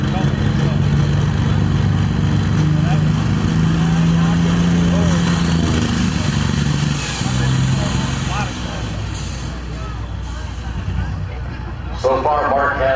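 A diesel super stock pulling tractor at an NTPA pull in Wilmington, Ohio drones loudly and steadily throughout, a thick roaring engine tone beneath an announcer talking continuously.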